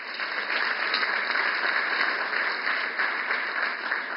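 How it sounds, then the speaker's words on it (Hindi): Sustained audience applause at the inauguration of the Indian Newspapers Society Towers in Mumbai, a steady dense clatter of many hands at moderate distance, even and continuous throughout with no voices over it. "बहुत बहुत तालियां।"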